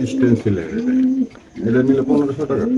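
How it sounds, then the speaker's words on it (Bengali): Racing pigeons coo close by in soft, rolling, throaty phrases, two bursts separated by a brief pause, loud and clear. "এখানে আছে এক জোড়া ভাই এক জোড়া রেসার কবুতর"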